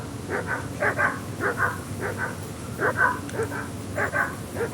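A dog in the medieval role-playing game Kingdom Come: Deliverance 2 barks repeatedly in short paired bursts, a steady, fairly close rhythm of yaps over a soft ambient background.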